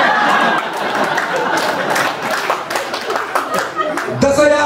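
Audience clapping and applause at a comedy kavi sammelan poetry recital at Bilaspur University, a dense burst of many hands with some chuckling and crowd chatter mixed in.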